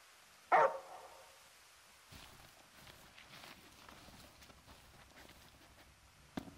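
Umbra the dog from Final Fantasy XV gives one sharp, loud bark near the start, then soft footsteps patter along quietly, and a brief faint sound ends it.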